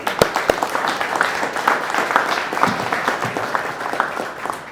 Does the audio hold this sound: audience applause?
yes